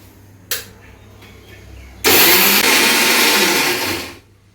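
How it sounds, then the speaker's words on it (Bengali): An electric blender purees mashed papaya. A brief pulse comes first, then the motor runs loud and whirring for about two seconds before spinning down. "এখন এটা ব্লেন্ড করব।"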